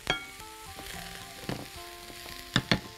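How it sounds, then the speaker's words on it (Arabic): Ground meat sizzles and fries in a pan while being cooked for a light béchamel moussaka, a soft steady crackle with a few sharper clinks and stirring knocks toward the end. "هنعصج اللحمه عادي خالص"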